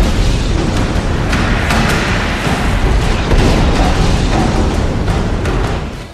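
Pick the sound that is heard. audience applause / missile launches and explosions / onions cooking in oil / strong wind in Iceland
missile launches and explosions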